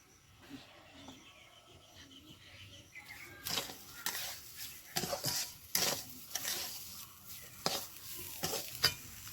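Rice fried in ghee with ground spice paste for basanti pulao, stirred with a spoon in a pan; quiet at first, then a run of close scraping strokes over a soft sizzle.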